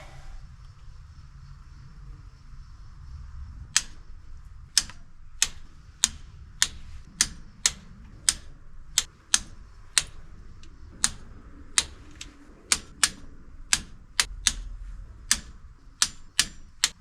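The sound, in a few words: torque wrench tightening engine cylinder head bolts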